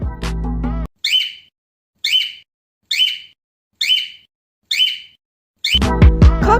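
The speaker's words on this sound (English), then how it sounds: "Cockatiels use this sound to interact with the other birds around." A cockatiel gives its flock call, a run of six bright, evenly spaced chirping whistles about a second apart. Each is clear and close. Music plays briefly before and after the calls.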